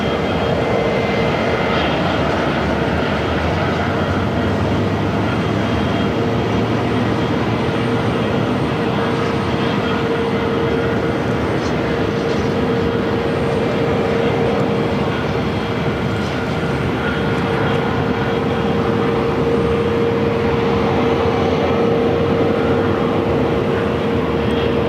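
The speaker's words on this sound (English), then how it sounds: "It's a Cessna 208B Super Cargo Master." A FedEx feeder Cessna 208B Super Cargo Master turboprop drones steadily at Phoenix airport, a continuous even engine hum with a sustained whine held at moderate loudness throughout, and no one speaking.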